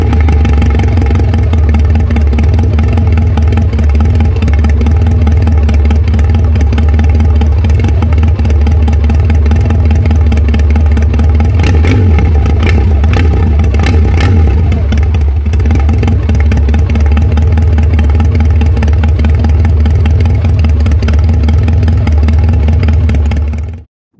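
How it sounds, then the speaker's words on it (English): A BMW K184 race motorcycle runs with a loud, steady exhaust drone, its engine throbbing at a constant rumble close up for the whole stretch before cutting off abruptly at the end. "BMW K184 sound by Alberto Bravo."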